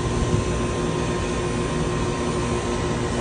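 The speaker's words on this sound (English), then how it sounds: "We've got our hose hooked up, and we're starting to bleed pressure off our system." Pressure bleeding off a CGAM chiller water system through a connected hose: a steady, loud, broadband rushing hiss that holds constant throughout without pause.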